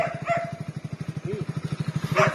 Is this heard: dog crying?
yes